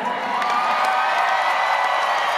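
A large stadium crowd at a concert in Nashville cheers and whoops steadily, a loud sustained roar of many voices that holds evenly throughout.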